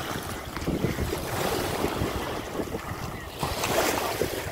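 Ocean waves at a warm beach, a steady wash of surf mixed with strong wind buffeting the microphone, with no clear voices.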